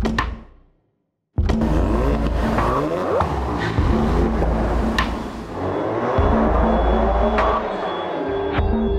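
A Ford Focus RS engine roars under hard acceleration on a mountain road, dropping briefly to near silence before surging back loud with rising revs and gear changes, tires faintly squealing.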